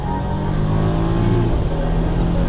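A Golf R and a BMW 330 drag racing, a loud continuous engine roar with strong low harmonics and steady revving, close by with no talk.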